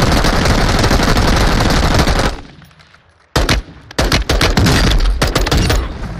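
A cheater in Call of Duty Warzone 2 fires loud, rapid automatic gunfire in a sustained burst, then a brief lull, then choppy, stuttering volleys resume up close.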